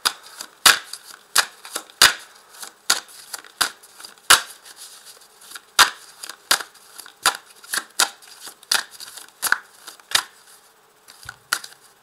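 Persian tarot cards are shuffled by hand in a run of sharp, crisp snaps and riffles coming in irregular bursts, close and fairly quiet, with no talking.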